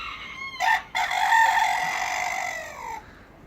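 A chicken in an outdoor chicken run lets out a loud, drawn-out crowing call that begins with a short burst, breaks off briefly, then carries on for about two seconds before fading, close by with no talking.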